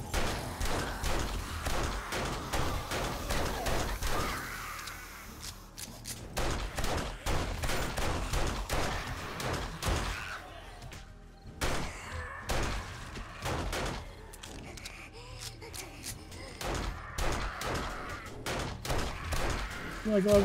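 Pistol shots ring out during a frantic zombie horde night in the survival game 7 Days to Die, sharp cracks repeating irregularly over a dense bed of game noise and occasional voice sounds.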